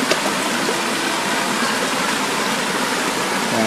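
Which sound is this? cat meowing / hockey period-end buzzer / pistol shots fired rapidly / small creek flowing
small creek flowing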